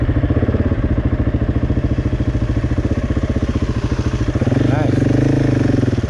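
A motorcycle engine runs at a steady throttle on a winter backcountry ride in Arizona, a loud, close, even rumble for most of the stretch before it eases off near the end, with a rider's brief word over it.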